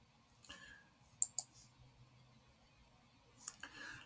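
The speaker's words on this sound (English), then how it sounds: "Here, I'll click on it, show you what it's all about." Computer mouse clicks, two quick near clicks close together, then a softer single click a couple of seconds later, over quiet room tone.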